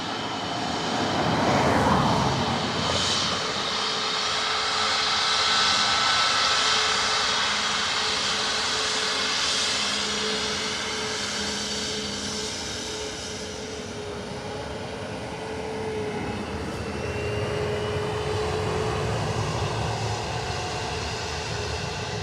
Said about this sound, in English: Ryanair from Beauvais about to touch on.